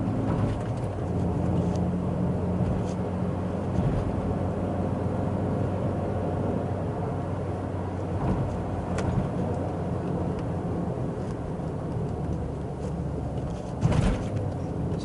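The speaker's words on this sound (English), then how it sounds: "So sometimes I like to downshift 2 ratios when I'm slowing down drastically." A manual-transmission car drives through city traffic, its engine hum low and steady from inside the cabin. A brief louder bump comes near the end, and no one talks.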